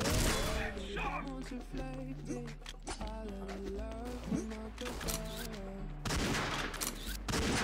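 Gunfire during a sniper match in the online shooter XSHOT: sharp bursts of shots at the start and end, with a voice talking at length in between over a low background hum.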